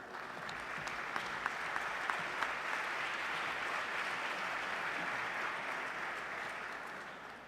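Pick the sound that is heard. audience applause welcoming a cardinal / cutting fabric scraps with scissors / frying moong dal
audience applause welcoming a cardinal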